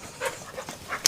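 An adoptable dog at an adoption brunch pants in quick short bursts close by, with a few soft breathy puffs and no talking.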